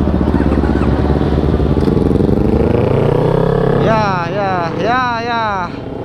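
A motorcycle revs and accelerates while riding, a loud continuous engine drone that rises in pitch, then changes gear with rapid wavering revs near the end, with voices talking over it.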